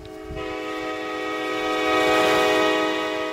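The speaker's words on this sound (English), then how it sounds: "the LRC locomotive is blasting out" An LRC high-speed train locomotive in a Roblox game sounds a steady, loud multi-tone horn, held without a break and swelling slightly as the train runs at speed.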